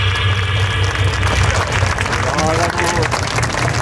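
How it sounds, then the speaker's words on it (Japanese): Steady, dense applause from an audience fills the space continuously, loud and close, with a low hum and a voice speaking over the clapping. "拍手ありがとうございます"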